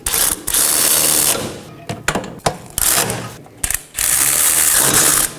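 A hand ratchet clicks rapidly in bursts while snugging down the 18mm wheel bearing and hub bolts on a 2018-2024 Chevrolet Equinox, with short pauses and a few knocks between runs.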